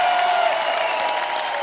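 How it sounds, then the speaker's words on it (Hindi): A studio audience at a comedy talk show applauds to welcome a rapper guest onto the stage, a dense, steady clapping from a crowd. "आप सबकी जोरदार तालियों के बीच"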